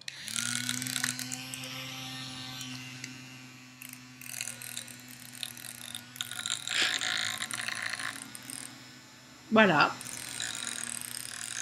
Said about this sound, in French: Alors, c'est un petit ventilateur.